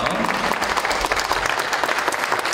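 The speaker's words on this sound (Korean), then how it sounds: "올라오실 때 큰 박수로 환영해 주시기 바랍니다" At a school's 133rd anniversary ceremony, the audience gives loud, dense applause to welcome a board member coming up to the stage, a close, continuous crackle of many hands.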